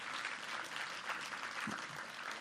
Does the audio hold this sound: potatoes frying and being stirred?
no